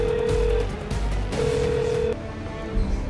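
Mobile phone placing a call to the police emergency line 15 in Karachi, with two steady dial-type tones separated by a pause, clear and close, and no talk over them.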